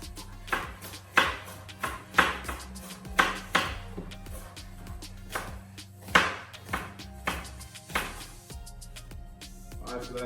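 Vegetables sliced on a cutting board in a home kitchen, a series of crisp knife chops about every half second, clear and close with a faint low hum underneath, no talk.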